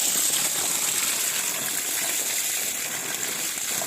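Water gushing steadily from the 2-inch delivery outlet of a 900 W, 60 V solar BLDC pump on a farm, a loud, continuous hissing splash with no pauses or talk.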